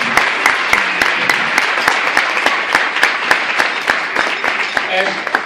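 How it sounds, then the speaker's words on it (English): A crowd applauding steadily, dense overlapping claps with sharp individual hand claps standing out, loud and continuous throughout. "And you need to applaud yourself."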